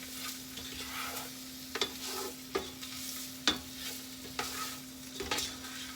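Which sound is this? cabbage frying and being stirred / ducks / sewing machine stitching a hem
cabbage frying and being stirred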